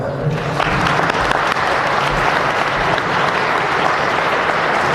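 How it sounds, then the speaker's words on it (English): Dense, sustained applause from a large graduation audience at a high school ceremony, welcoming the keynote speaker; steady and loud throughout with no gaps. "Let's give him a round of applause, Mr. Paul Patton."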